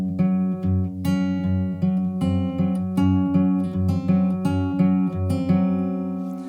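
An acoustic guitar plays a song at a quicker tempo, repeating a plucked, syncopated figure with a steady bass pulse, close and clear with no talking.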